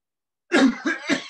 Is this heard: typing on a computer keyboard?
no